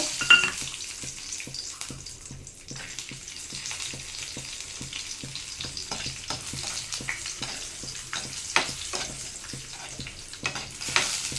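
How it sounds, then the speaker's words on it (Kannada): Raisins and cashews sizzle steadily in hot fat for bottle gourd payasa, the continuous frying hiss broken by regular clicks of a spoon stirring against the pan. "ದ್ರಾಕ್ಷಿ ಗೋಡಂಬಿ ಫ್ರೈ ಮಾಡ್ಕೊಂಡು ಒಂದು ಬೋಲಿಗೆ ತಗೊಳ್ಳೋಣ"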